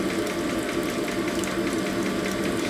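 A Harley-Davidson ironhead 900 XL kick-starter ratchet plate is flushed of grit, giving a continuous close grinding, clicking ratchet rattle mixed with a wet hiss of running liquid.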